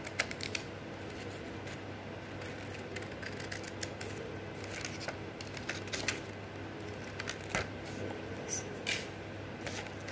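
Scissors snipping a triangle out of paper for a craft basket, a run of quick, crisp close cuts and rustles repeating at an irregular rhythm over a low steady hum, with no talking.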